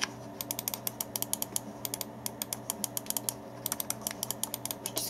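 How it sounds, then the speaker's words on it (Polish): An ART Game Master 2 gaming mouse has its buttons clicked repeatedly, a rapid, uneven run of crisp, light clicks over a faint background hum. "Przyciski główne, lewy i prawy, chodzą dość cicho i dość lekko."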